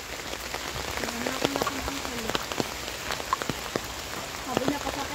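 Rain falls steadily on a forest trekking trail at MacRitchie in Singapore, making a continuous dense patter with scattered sharper drips. Faint voices and a low tonal hum sit under it.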